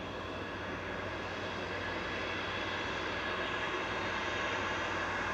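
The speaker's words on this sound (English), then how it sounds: "Etihad Flight 15, that's a 787-10, one of the big 787s" Etihad Boeing 787-10 widebody jet arriving at Manchester Airport, a steady broadband engine roar with low rumble holding constant throughout, fairly loud and close with no voices.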